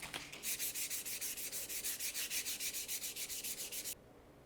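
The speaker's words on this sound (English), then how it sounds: "We're going to progress to 600 grit sandpaper, and we're going to begin sanding just like we did with the 400" 600-grit sandpaper rubs a leather edge back and forth in a quick, even rhythm of short strokes, close and soft, then stops abruptly.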